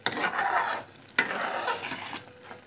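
A carrot halwa mixture with sugar is stirred in a pan in two separate sweeping strokes, each a close, moist scraping swish with a soft sizzle beneath it.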